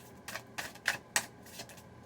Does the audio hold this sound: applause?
no